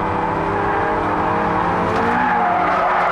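MR2 and MX5 race cars cornering at Copse Corner on a racing circuit, with loud, continuous engine roar and tyre noise sustained at close range.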